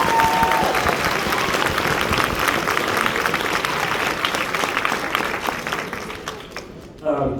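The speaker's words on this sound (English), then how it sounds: "can we give those 7th and 8th graders a round of applause?" Loud, sustained audience applause for 7th and 8th grade students at a school band concert, a dense wash of clapping that carries on for several seconds before cutting off abruptly near the end.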